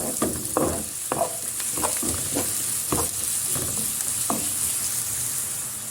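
Grated carrot and leeks sauté in a hot pan with a steady high sizzle, broken by a series of scraping stirs every half second or so, close and fairly loud with no talking.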